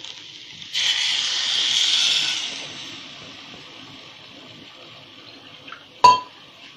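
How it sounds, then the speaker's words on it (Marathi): Two bowlfuls of water splash steadily into a cooking pot for varai rice, a close rushing pour lasting a couple of seconds that tapers off, followed later by a single sharp clink of a metal bowl. "आता त्याच वाटीने 2 वाटी आपण पाणी घालूया शिजण्याकरता"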